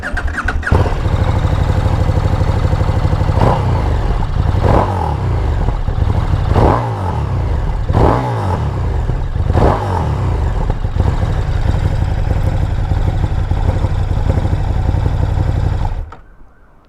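A KTM 1290 Super Duke GT motorcycle engine runs loud and close, with several sharp throttle blips rising above a steady idle before it cuts off near the end.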